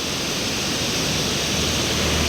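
The Harnav river runs in flood at night, its water rushing in a dense, unbroken roar that stays loud and steady throughout, with no voices.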